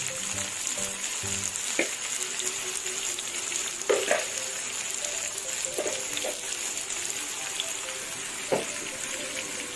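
Chicken pieces fry in a pan with a steady, quiet sizzle, marked by occasional sharp crackles and soft utensil clicks, heard alone without voices.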